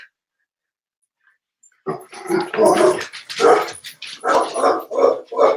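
A dog barks repeatedly after a quiet start, close and loud, in quick irregular bursts with a few yips and whimpers, with no talking over it.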